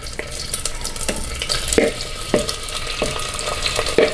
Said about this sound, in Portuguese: O primeiro passo é fritar essa carne.